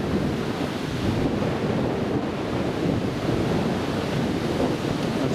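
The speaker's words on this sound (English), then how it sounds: "it is breezy" Wind blows steadily at Newcastle International Airport, a loud continuous rushing roar buffeting the microphone without pause.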